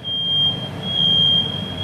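Smoke alarm in a kitchen during salmon cooking, a loud, steady, high-pitched electronic tone sounding without a break over low background rumble.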